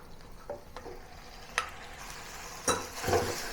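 Pork being stir-fried with fried shallots, a low sizzle under several distinct spatula scrapes and clacks against the pan, with the sizzle swelling louder toward the end.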